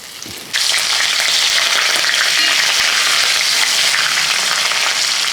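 Chilies fry in hot oil with curry leaves, a loud, steady sizzle that kicks in abruptly and crackles continuously, up close, with no talking.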